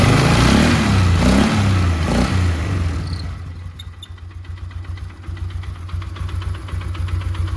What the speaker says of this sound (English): You rev this up a little bit.